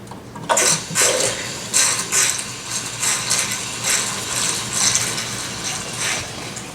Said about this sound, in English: So let's plug the motor in and see what happens.